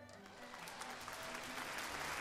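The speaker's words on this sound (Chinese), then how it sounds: "赢得大家掌声" An audience at a corporate speaking event applauds, a steady wash of many hands clapping that swells slightly and holds, heard from a moderate distance.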